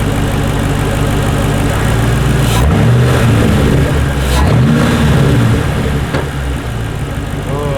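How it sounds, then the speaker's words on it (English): A modified Ford Mustang engine idles loud and close with a rumbling steady tone, blipped into a couple of brief revs that fall back to idle. "I think it runs and idles 10 times smoother than it did before"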